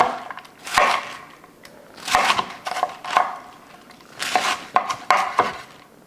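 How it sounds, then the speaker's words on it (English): Knife slicing chicken breast into thin slices on a board, a series of sharp crunchy chops in uneven clusters, close and fairly loud, with brief gaps between strokes and no talking. "So I'm going to start doing thin slices this way."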